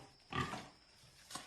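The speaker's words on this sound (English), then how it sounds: "The governor's pig." A pig in a bathroom gives two short grunting oinks, the first louder and fuller, the second brief and higher, close by against quiet room tone.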